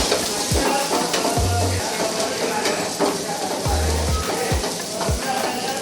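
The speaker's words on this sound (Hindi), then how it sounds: "तो लहसुन के बाद प्याज जो है वो भी इस जो है तड़के में जा चुका है" Chopped onion frying in a hot garlic tadka for dal, a steady loud sizzle close by with a spoon clinking and scraping against the pan now and then.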